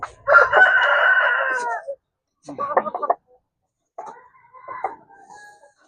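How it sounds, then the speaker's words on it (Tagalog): A rooster crows loudly and close by in one long call, followed by a few shorter, rougher crowing and clucking bursts separated by quiet gaps. "Ito yung rooster natin."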